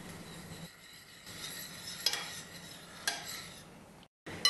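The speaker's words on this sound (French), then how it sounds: "on ajoute la gélatine ramollie et on mélange jusqu'à ce qu'elle soit fondue" Softened gelatin stirred into a warm mixture for a charlotte: quiet, soft scraping strokes of a utensil in a bowl with occasional light clinks against the side.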